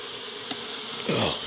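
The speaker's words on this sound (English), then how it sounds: "There ain't very many bees in this hive either." Bees buzz inside a beehive in an outlying apiary, a low steady drone with a brief sharper buzz midway, swelling louder toward the end.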